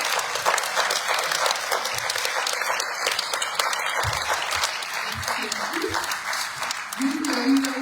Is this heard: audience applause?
yes